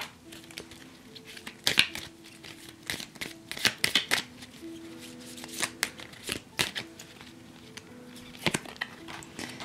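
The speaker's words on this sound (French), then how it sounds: "elles ne sont pas faciles à mélanger ces cartes-là" A deck of oracle cards being shuffled by hand at close range, quick dry riffling and slapping bursts in an uneven rhythm, fairly quiet, with faint background hum and no talk.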